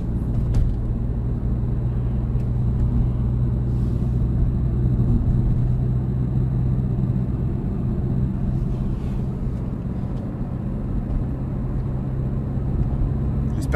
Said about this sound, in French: La voiture fait pas trop de bruit.